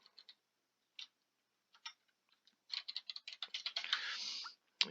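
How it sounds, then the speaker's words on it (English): Typing on a computer keyboard: sparse isolated clicks at first, then a quick dense burst of keystrokes and a short hiss, close and moderately quiet with no talking. "You have to forgive my typing here."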